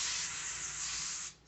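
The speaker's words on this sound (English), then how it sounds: "So I'm going to spray that." Cooking spray hissing in one steady burst over sweet potatoes on parchment paper before roasting, close and loud, stopping abruptly after about a second.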